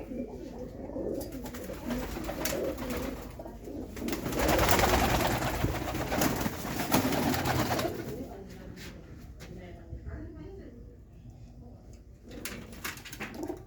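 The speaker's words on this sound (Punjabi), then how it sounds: "ਇਹਨਾਂ 'ਚ ਕੁਝ ਵੱਡੇ ਕਬੂਤਰ ਆ ਬਾਈ" Pigeons coo repeatedly among a large flock of sale birds, around thirty to forty of them, being checked one by one; the cooing is continuous and fairly close, with people talking and handling noise mixed in, loudest midway.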